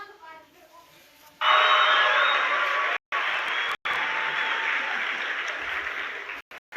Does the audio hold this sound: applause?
yes